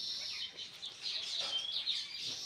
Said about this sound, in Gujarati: પોપટ પણ બોલે છે.